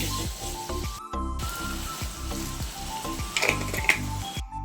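Chicken sizzles with curry leaves in a pan, a steady close frying crackle with scraping and stirring strokes. Two brief dropouts of near silence break it up.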